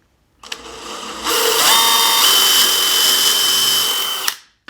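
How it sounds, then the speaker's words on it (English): A power drill fitted with a 3/8 inch bit and a stop collar bores a hole for an industrial shelf, spinning up to a loud steady whine for about three seconds before stopping abruptly. "So just line it up in the hole there and drill it in."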